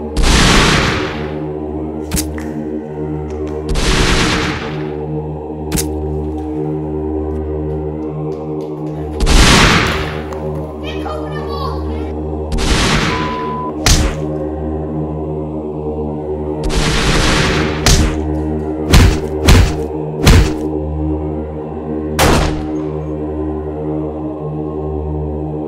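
An army fires a gunfire volley in a staged history scene, heard as a series of loud, booming blasts spread across the clip, some single and some bunched in quick succession, with no talking.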